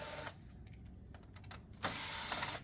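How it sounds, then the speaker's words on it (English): Power screwdriver backing two screws out of a metal plate inside a Xerox PrimeLink C9070 printer, short whirring bursts at the start and end with quieter mechanical clicks between, close and clear. "We're going to remove these 2 screws right here"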